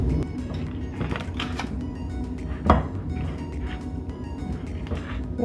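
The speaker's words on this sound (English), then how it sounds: "I'm just going to cut a slice." A knife slices through soft banana bread on a plate, with clinks and knocks against the plate, one sharper tap standing out, all fairly close.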